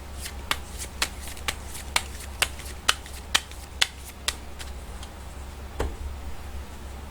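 Tarot-style gypsy playing cards shuffled close by, a run of crisp riffling snaps in a steady rhythm followed by a softer shuffle, with no one talking.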